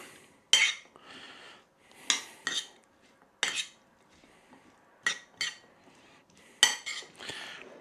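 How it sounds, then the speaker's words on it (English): Black bean salsa stirred in a bowl with a metal spoon, giving a series of sharp clinks and scrapes in irregular bursts, close and clear, with quiet gaps between strokes. "This is obviously the salsa mix, so just give that a little mix through"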